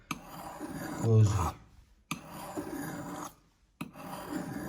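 A blade is being sharpened with a file in a reverse stroke, tip toward the front and upward, giving two long rasping passes, each ending in a brief pause, with a louder scrape near the start.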